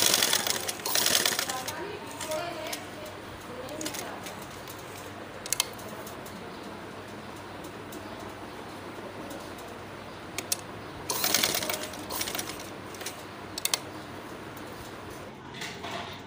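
A sewing machine stitches a small boy's kurta in short, rattling bursts separated by quieter pauses, fairly close, with a faint voice speaking now and then.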